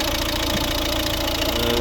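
A 2011 Volvo V60 with a 1.6 D2 eight-valve diesel engine and Garrett turbo runs at a steady idle, a continuous close, loud clattering drone with no pauses.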